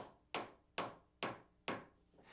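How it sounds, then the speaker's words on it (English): A wood trim piece is hammered into place against wall case trim on a window seat, four sharp, evenly spaced blows ringing close and clear with short decays between them. "Cut the first piece to length and drive it into position tight against the wall case trim."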